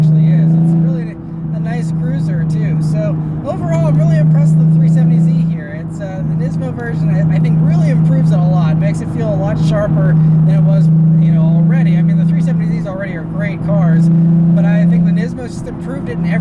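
A 2016 Nissan 370Z NISMO with a manual gearbox cruising on a main road, its steady engine drone and road noise running continuously beneath someone talking throughout.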